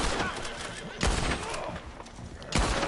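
Gunfire in a video game, aimed at a dog: several sharp, loud shots crack at irregular intervals, each followed by a short noisy tail.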